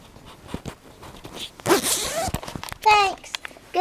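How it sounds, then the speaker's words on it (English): A sleeping bag zipped up at a camping sleepover: one long, loud zipper pull close by, then a quicker second rasp, with a voice and small rustles around it. "Can you zip mine up?"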